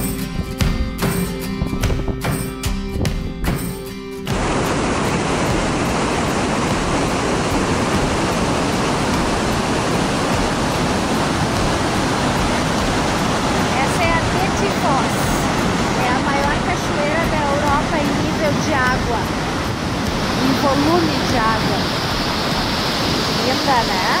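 Waterfall beside a hiking trail in northeast Iceland, a steady broadband rush of falling water that carries on unbroken, following a few seconds of other sound at the start.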